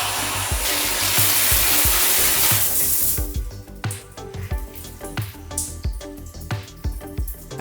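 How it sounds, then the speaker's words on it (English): Rain-type hotel shower running with good pressure, a steady broadband hiss of falling water that gives way to irregular splashes and drips as the flow is interrupted. "The shower was a waterfall or rain type shower with pretty good pressure."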